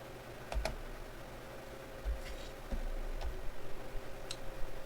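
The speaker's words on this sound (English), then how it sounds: "Let's go ahead and type in Amazon again." Keys clicking on a computer keyboard as a product search is typed, a sparse run of light taps and ticks at close range over a low steady hum, with no talking.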